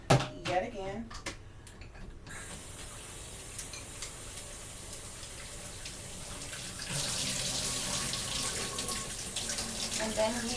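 Running tap water pours steadily over sliced potatoes in a sink, a continuous close rush that swells louder toward the end, with a person talking over the start.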